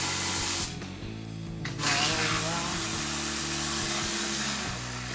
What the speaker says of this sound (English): we're gonna remove the pressure plate bolts, 13 millimeter. All the way around.